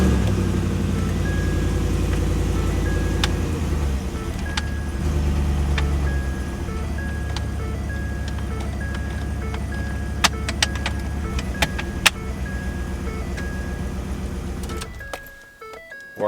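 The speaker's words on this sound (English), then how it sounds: "I'm going to engage it in gear here and make sure everything works properly" Ford F-150 truck with its gear shifter engaged, the engine running at a steady idle with faint clicks and a repeating chime over a constant low rumble, ending as the engine shuts off.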